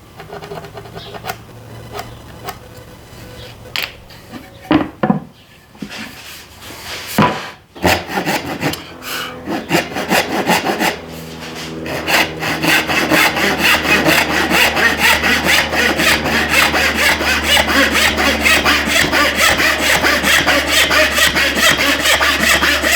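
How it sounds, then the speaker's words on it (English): Wooden trim stock is cut into long strips for the bottom trim of an urn, with a saw grinding steadily through the wood, starting in short bursts and then running as one loud, continuous rasping drone. "let's see about cutting these into strips and seeing how they fit"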